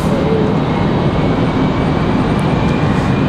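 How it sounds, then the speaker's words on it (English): A Boeing 787-9 Dreamliner jet airliner on final approach to Raleigh-Durham airport produces a loud, steady engine roar and rumble, unbroken for a few seconds, with no speech. "Got that 787-9 Dreamliner"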